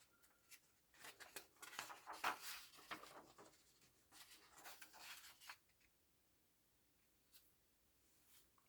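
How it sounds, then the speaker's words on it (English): Magazine pages turned carefully by hand, a 1982 issue of Mad Magazine, giving soft papery rustles and swishes in bursts over the first five seconds, then a few faint flicks before fading to quiet. "Trying to be delicate with my page turning here"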